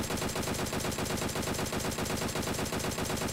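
A DP-28 machine gun fires in a video game, sustained rapid automatic bursts hammering in a tight, even rhythm, loud and close throughout with no talk.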